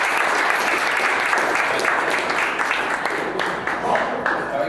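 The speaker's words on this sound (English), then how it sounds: "let's give it a round of applause back to Chris Steinberg" Sustained applause from a crowd at a business presentation fills the room with dense, even clapping that holds strong throughout.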